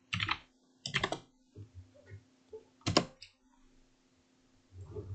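Clusters of keystrokes on a computer keyboard while entering an Excel formula, with short bursts of clicks separated by pauses and a faint steady hum underneath.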